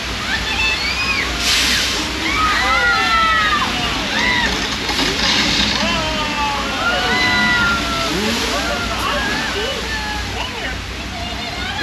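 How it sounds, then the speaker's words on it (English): Thousands of gallons of recycled water rush down a hill in a simulated flash flood on the Universal Studios Hollywood backlot, a loud, continuous sloshing roar with repeated shrieks and cries from onlookers over it. "That was our flash flood"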